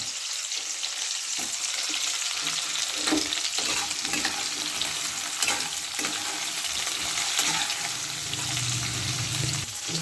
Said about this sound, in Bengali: এবার কপি দিয়ে দিচ্ছি ফুলকপি